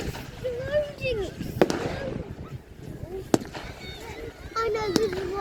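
Fireworks at a public display in Oakington crack and bang in a few sharp, loud bursts, with whistling rockets and nearby voices of adults and children chatting throughout.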